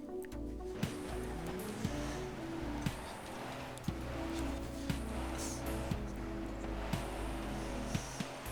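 A car revs hard and races at speed in Forza Horizon 4 in Scotland, the engine droning loud and steady with sharp gear-shift clicks about once a second.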